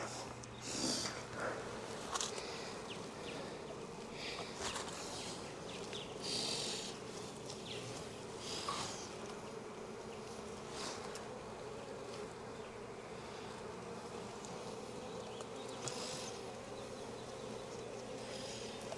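Honey bees hum steadily around an open hive during a Florida inspection, a soft, continuous close buzz with occasional louder passes near the listener.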